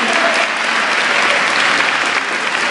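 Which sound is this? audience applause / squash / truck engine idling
audience applause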